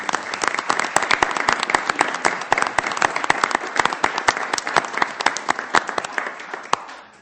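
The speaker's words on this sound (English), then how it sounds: "If I can ask Cub Scout Pack 225 to stand for a round of applause" An audience at a city council meeting claps for a Cub Scout pack, a dense steady round of applause lasting several seconds before it stops abruptly.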